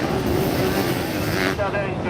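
Sidecar motocross outfits racing past at a dirt-track event in Saint-Même-le-Tenu, loud roaring two-stroke engines passing close with shifting pitch, under a commentator's voice.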